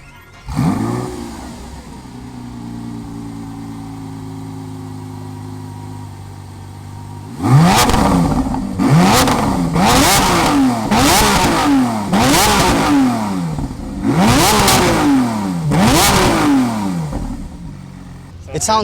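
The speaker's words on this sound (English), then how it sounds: "let's do a little bit of before revs" A stock Lamborghini Aventador SVJ with its naturally aspirated V12 idles steadily, then is revved in a series of about seven sharp, loud blips that rise and fall in quick succession, close by.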